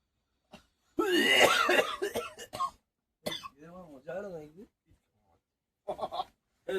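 A person coughs in a series of hoarse, strained bursts mixed with groaning vocal sounds, close up, with short silences between.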